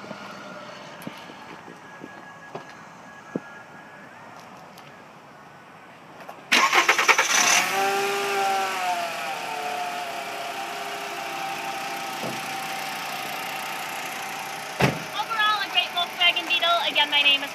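A 2008 Volkswagen Beetle convertible cranks and catches about a third of the way in, then settles into a steady idle up close, with a few clicks beforehand and no talking.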